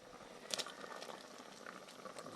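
Paksiw na tilapia broth simmers in a pot, a faint bubbling and popping with a few small louder blips, heard alone without talk.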